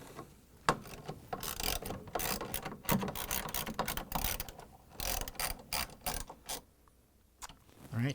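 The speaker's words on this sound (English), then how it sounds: "I'm going to use this ratchet. And we're going to tighten them." Ratchet tightening bolts on an LG/Kenmore washer clutch assembly, a run of quick close clicking strokes in bursts with brief pauses, loud and alone without talk.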